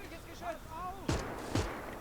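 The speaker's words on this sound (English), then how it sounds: "there's a cannon still firing on the right" Two heavy cannon blasts in the Gates of Hell real-time strategy war game land about half a second apart, loud and punchy over a low battle rumble, after a short stretch of faint voices.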